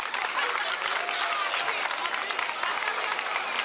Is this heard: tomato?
no